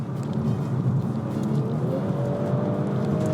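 An Audi S5's loud aftermarket exhaust drones close by, a steady throaty rumble with a slight rising pitch.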